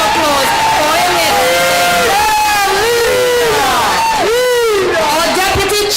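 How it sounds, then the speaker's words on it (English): A loud crowd at a COP public meeting in Gaston Courts roars with cheers, whoops and shouting, voices rising and falling over a steady wash of crowd noise. "Let's hear him for a round of applause for him."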